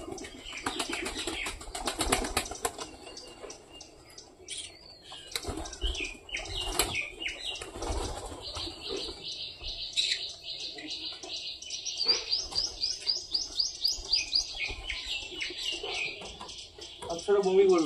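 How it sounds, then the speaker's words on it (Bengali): Pigeons are let loose, wings flapping in bursts as birds take off near the microphone, with chirps and a long run of rapid high calls; someone talks loudly through much of it. "এইবার টোটালি এই পায়রাগুলোকে ছেড়ে দিতে হবে।"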